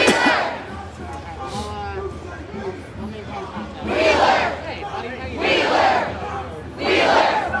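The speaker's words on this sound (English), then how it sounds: "Now they're getting the crowd to say fuck Wheeler." A large street protest crowd in Portland chants in rhythmic, shouted bursts that swell and fade in repeated waves, loud and close, with babble and scattered voices between the chants.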